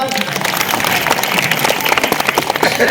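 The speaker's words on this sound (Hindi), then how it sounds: "इसके लिए ताली बजाओ जोरदार" Loud clapping applause from a gathered group at a comedic family skit, dense and steady throughout with voices mixed in.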